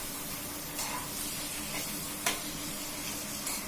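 Spicy pasta sauce with onion, tomato, chilli sauce and tomato sauce being stirred in a hot pan, a steady hissing sizzle with a few soft spoon scrapes and one sharper clink, close and even, no voices.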